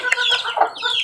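Chickens kept by a backyard fowl breeder, including game birds like kelso and asil crosses, cluck loudly and close up in a quick, overlapping burst of short calls.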